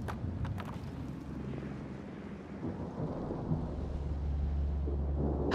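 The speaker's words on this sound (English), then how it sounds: "Storms here don't seem natural." Thunderstorm on an alien world in the video game Mass Effect: Andromeda, a deep rolling rumble of thunder with a steady wash of rain, fairly loud and sustained, swelling again toward the end with no talk.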